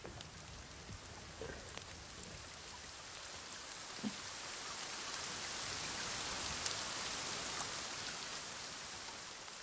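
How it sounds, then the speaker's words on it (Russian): Steady rain falls in the survival game The Forest, a soft hiss of drops on surfaces with a few louder individual drips, rising slightly and continuing alone without talk. "Во время исследования, кстати, пошел дождь"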